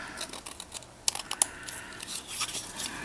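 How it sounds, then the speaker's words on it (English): Quiet close-up paper handling with a few sharp snips of scissors cutting through paper, brief crisp cuts amid soft rustling. "Now let's just take our scissors and snip off the extra."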